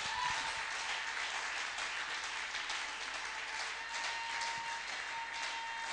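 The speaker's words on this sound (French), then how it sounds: "On acclame très fort pour le Seigneur." A church congregation applauds loudly and steadily, a dense unbroken wash of clapping that holds for the whole stretch with no voices standing out.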